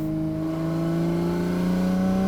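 An RB26-swapped Nissan 300ZX, 650 horsepower, revs hard toward about 8,500 RPM, a loud steady rising engine note with strong harmonics held close and alone throughout.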